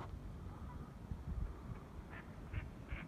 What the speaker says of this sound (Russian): Вот уточка полетела.